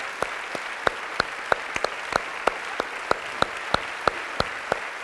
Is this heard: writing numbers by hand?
no